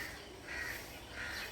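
A crow caws twice at dawn, around half past five in the morning, with the harsh calls faint and distant over quiet ambient hiss.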